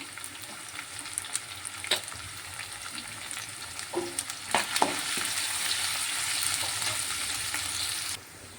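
Ginger garlic paste and turmeric fry in a pan, a steady sizzle with scattered stirring taps that grows denser and louder, then cuts off near the end.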